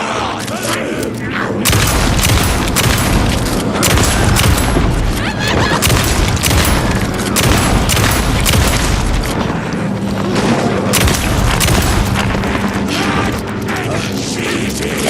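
Loud, repeated gunshots from a handgun in the horror game Alan Wake 2, booming in close succession over a sustained stretch of combat, with brief dips between volleys.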